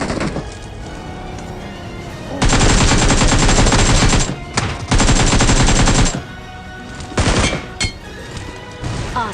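Close-range gunfight in the PUBG video game, with loud sustained bursts of automatic gunfire lasting a couple of seconds each, broken by short pauses and a few quicker volleys at the end.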